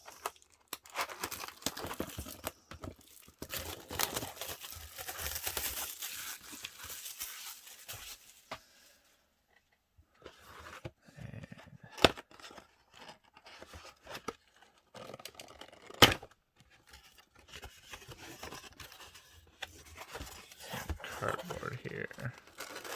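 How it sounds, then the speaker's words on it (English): Packaging of a 2007-08 Fleer Hot Prospects basketball card value box being torn and crinkled open, close rustling and ripping in uneven bursts with a few sharper tears, a voice talking intermittently over it. "Rip this open."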